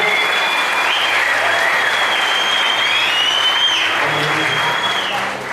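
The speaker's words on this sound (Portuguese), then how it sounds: "dê um aplauso bem forte para você." A church audience applauds loudly and continuously, a thick, even roar of clapping with faint crowd noise and a voice rising over it.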